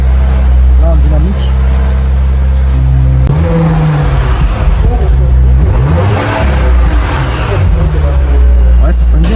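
An Audi RS5 ABT V6 with an ABT exhaust and 500 hp, heard from inside while driving in dynamic mode, gives a steady engine and exhaust drone with rising and falling pitch as it accelerates, and people talk over it.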